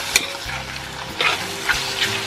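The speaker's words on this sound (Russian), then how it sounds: "Также на среднем огне у нас обжариваются грибы с мясом до готовности. Периодически нужно помешивать, чтобы не пригорело." Mushrooms and meat sizzle over medium heat in a kazan, with a steady frying hiss close up and a few sharp scrapes as the food is stirred.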